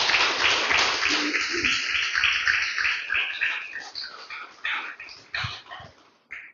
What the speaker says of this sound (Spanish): Déselo fuerte el aplauso al Señor